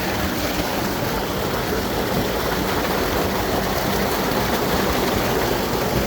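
Water from a tubewell gushing out in the morning, a steady, loud, continuous rushing and splashing flow heard up close without pause and with no talk.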